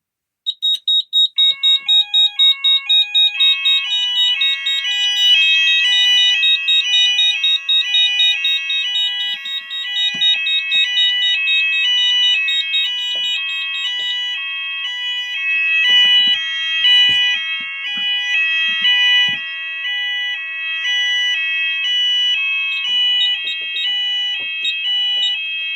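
An Apollo XP95 addressable fire alarm system sounds through a Symphony sounder: a piercing, very loud, rapidly alternating two-tone electronic alarm that starts abruptly and continues steadily and close.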